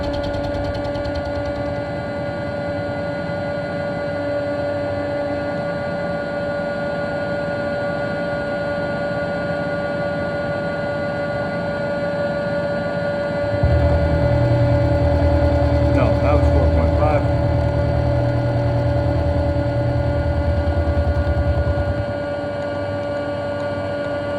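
A vertical milling machine runs with a steady low motor hum, joined midway by a louder rumbling cutting sound for several seconds before settling back; a voice talks briefly.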